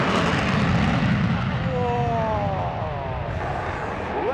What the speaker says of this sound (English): Look there, you can see the glow in the tailpipe. That means the afterburners are on.